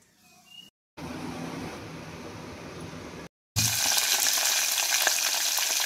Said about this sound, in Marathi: इथं मम्मीनी मस्त पापड आता भाजायला ठेवलेत, तळायला